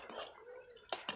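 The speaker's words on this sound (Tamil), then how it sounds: "அப்படியே கலக்கி விட்டுருக்கலாம்." A ladle scrapes and clinks against a metal pot of sambar in a few quick strokes, soft and close.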